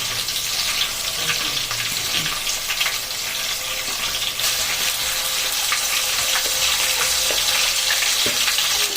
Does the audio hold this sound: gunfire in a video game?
no